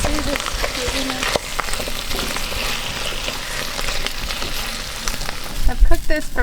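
Bush tucker goo frying in a pan outdoors on Orpheus Island, a steady close sizzle with crackles and stirring scrapes, people talking quietly over it.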